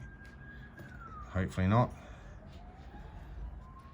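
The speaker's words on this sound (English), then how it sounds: "There's some sirens." Emergency vehicle sirens wail at a distance, a faint rising and falling tone that sweeps on throughout, with a person speaking briefly over it.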